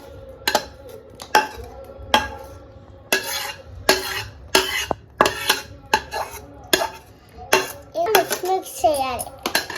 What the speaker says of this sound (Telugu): దాంట్లో వేసుకొని కలుపుకోవాలి.